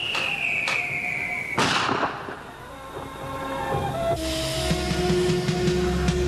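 Firecrackers bursting amid a festive scene, sharp broadband cracks standing out loud and near over a busy background of tones and mixed noise, with several distinct bangs across the stretch.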